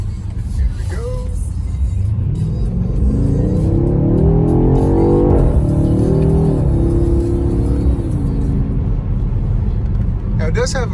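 A BMW X6M Competition in road mode accelerates hard, its engine note climbing steadily before a brief dip at a gear change, then pulling again, loud and close from inside the cabin.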